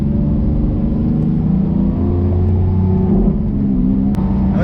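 A Lamborghini SVJ's engine pulls hard under full throttle from inside the cabin, a loud steady drone with rising pitch and a dense low rumble filling the whole stretch.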